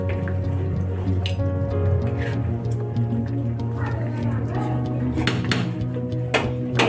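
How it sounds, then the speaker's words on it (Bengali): Khichuri is stirred in a cooking pot, producing wet squelching and soft clinks of a utensil against metal, repeated irregularly and close, with a faint background hum. "এটাকে একটু নেড়ে চেড়ে দেবো, দিলেই সব মিশে যাবে একসাথে।"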